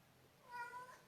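A house cat gives one soft meow, faint and fairly close, over a quiet background.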